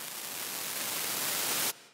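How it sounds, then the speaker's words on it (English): Steady, loud hiss of synthesizer white noise from a VCV Rack module holding for nearly two seconds, then cutting off abruptly into a fading tail. "So I'm going to use white noise there."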